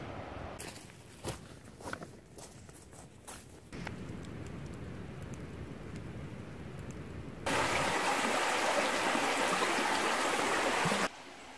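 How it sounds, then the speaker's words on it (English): Rushing river water in the Big South Fork gorge, Tennessee, a broadband wash that shifts in level, with scattered clicks and footsteps early on and a louder, fuller surge later. "Somewhere down there, the river is running."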